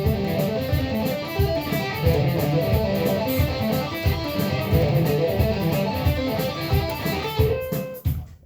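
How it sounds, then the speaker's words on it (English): Guitar running a fast looped hammer-on and pull-off exercise at 180 BPM over a metronome beat, a dense continuous flurry of legato notes with steady percussive clicks underneath, close and loud, stopping abruptly at the end. "if I play it with a metronome or a beat at say 180 BPM"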